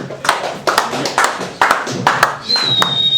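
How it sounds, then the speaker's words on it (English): Open mic audience clapping for a poet, a few close, loud, uneven claps in a small room, with a thin high whine near the end. "Let's have a big round of applause for John J. Trause, everybody."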